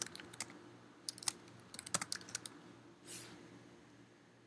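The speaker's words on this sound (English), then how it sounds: "I'm just going to type it in here" Irregular clicks of typing on a computer keyboard while entering text into a real estate CRM, fairly close and quiet, in scattered bursts with short pauses and no talking.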